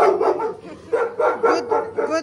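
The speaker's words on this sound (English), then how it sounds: "That's a big dog. Big dog." A big guard dog in Jaipur, India, barks in a quick run of loud, close, gruff woofs, several in succession with short gaps between them.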